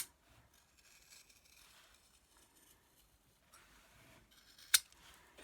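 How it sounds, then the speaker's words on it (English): Fabric scissors cut straight down the middle of a piece of cloth, giving faint, sparse snipping and rustling with one sharp, louder blade click near the end; the whole passage is quiet and close. "just cutting straight the way down the middle of this with my fabric scissors"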